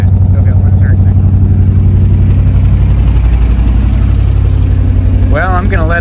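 A 1978 GMC truck engine, restarted after sitting for 17 years, idles in a loud, steady low rumble that holds even throughout, with a brief voice near the end.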